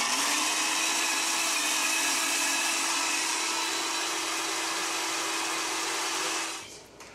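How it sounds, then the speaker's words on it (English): A loud, steady blender whirs continuously for several seconds, then winds down abruptly near the end. "That's a noisy blender."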